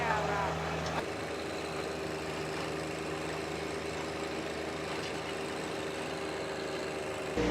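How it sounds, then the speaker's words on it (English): A sub compact tractor with a tiller churns through ground near an old stump, its engine giving a steady, moderately loud drone with a grinding rumble. The tone changes briefly near the start and a voice is heard over it. "I just run my tiller through it"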